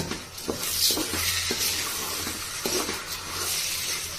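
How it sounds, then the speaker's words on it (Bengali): Pulao rice with onions, cumin and ginger garlic paste stirred in a pan, with repeated scraping strokes of a spoon over a steady, close sizzle and no talking. "এখন সবগুলো একসাথে একটু ভালো করে নেড়ে নিব।"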